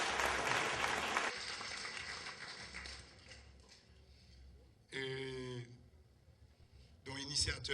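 Warm applause from a congregation in the Roseau parish, honouring a priest, loud at first and then fading, with a couple of brief bursts of speech through a PA system near the end.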